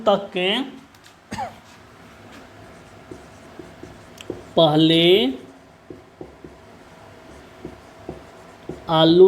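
Pen writing on paper while a maths problem is worked out, a light continuous scratching under a man's Hindi speech that comes in short bursts, with quiet gaps where the strokes carry on alone.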